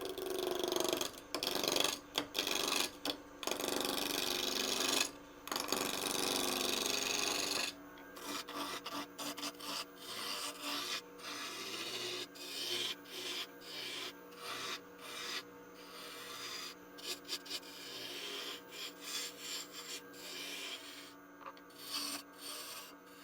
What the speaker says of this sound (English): All right, going to use a spindle roughing gouge